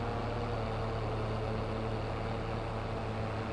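A tractor engine runs with a steady low, droning rumble, continuous and fairly close, with no talk.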